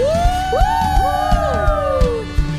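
A church congregation cheers and whoops loudly in a worship service, with overlapping voices rising and falling in a sustained jubilant shout that fills the hall.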